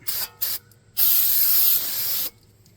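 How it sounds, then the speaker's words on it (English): Brake cleaner is sprayed onto the front brake rotor of a 2013 GMC Terrain in two quick spritzes and then one long hissing burst, close and loud. "So we're just gonna give that a good spritz."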